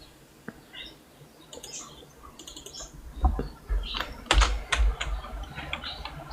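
Someone types a name on a computer keyboard, sparse clicks at first, then a quick cluster of louder key presses and thumps close by.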